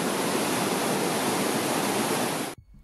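A river rushes loudly in the Pamir Mountains, a dense, steady roar of flowing water close by, cutting off abruptly near the end into near silence.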